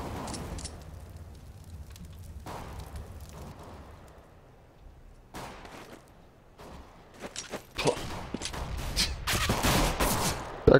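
Gunfire erupts on de_dust2 during a Counter-Strike match between Astana Dragons and NiP, with scattered shots early, then a dense close flurry of rapid fire near the end.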